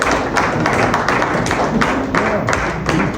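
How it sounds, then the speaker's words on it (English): A round of applause at a political fundraising event in Dubai: dense, steady clapping from a crowd, loud and sustained throughout with a few sharper taps standing out. "Give him a round of applause."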